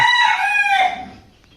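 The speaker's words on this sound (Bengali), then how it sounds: "আর এখানে খুব মুরগির ডাকাডাকি আছে ডাকটা খুবই সুন্দর" A rooster crows loudly and close by in one long call that fades out, with chickens clucking around it.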